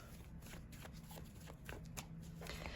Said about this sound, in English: Sorry, I keep shuffling with that deck.